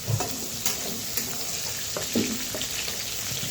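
Pieces of pointed gourd (potol) sizzle and crackle in hot oil with a dense, even frying hiss. A few soft utensil taps come through, and there is no talking.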